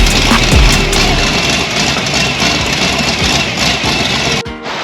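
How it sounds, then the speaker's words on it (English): A 400 hp engine on a Sleekcraft boat runs steadily and loudly up close, a rough, throaty drone that holds even before cutting off abruptly near the end. "now that the water pump is actually pumping water into the engine and not just into the bilge"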